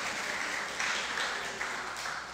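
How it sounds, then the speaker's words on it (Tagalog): Faint, steady applause from a church congregation praising God during a sermon, a soft distant wash of clapping with no voices over it. "Isa nga pong malakas na palakpak para sa ating Panginoon."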